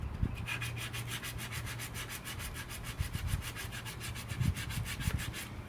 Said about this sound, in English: it actually sands down pretty quick.